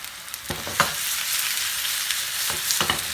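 Steady frying sizzle from a pan of cubed potatoes and onions for a Spanish omelette, with a few clinks and scrapes of a utensil stirring, close by, no talking.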